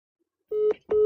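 Two short steady telephone tones in quick succession as a call connects, loud, clean and close, with no other sound.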